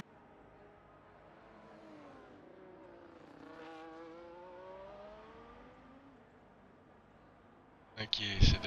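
Aston Martin race car in a sim racing game at Monza idling slowly past, a faint rising and falling engine whine under talk, ending in a sudden loud burst.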